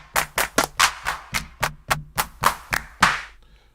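Drum-plugin clap samples from the Loop Track VST fire one after another, about a dozen crisp, evenly spaced hand claps with slight variations in tone, dry and close with short decays.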